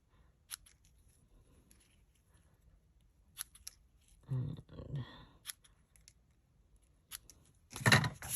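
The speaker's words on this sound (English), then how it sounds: "So then I am just going to trim my edges." Scissors snip the edges of paper being trimmed for a handmade Valentine card, a few sharp separate cuts spread out with quiet pauses between them, close up and clear.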